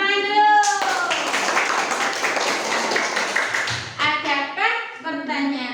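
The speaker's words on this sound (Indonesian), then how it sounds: "Tepuk tangan dulu." Students in a classroom clap in unison, a short burst of brisk claps in a rhythmic pattern, with voices heard before and after.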